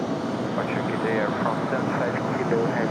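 An Airbus A350 airliner rumbles steadily at an airport, a broad continuous engine roar that stays even throughout, with faint chirps and a voice talking over it.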